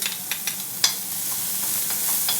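Shallots and garlic sautéing in a restaurant kitchen pan, a steady soft sizzle broken by a few sharp clinks and scrapes of stirring, close and moderately loud with no talk.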